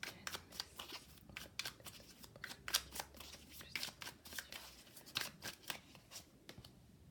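Tarot cards shuffled by hand in a run of quick crisp riffles and soft slaps, close and fairly quiet, with no voices over them.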